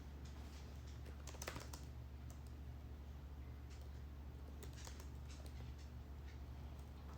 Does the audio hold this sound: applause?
no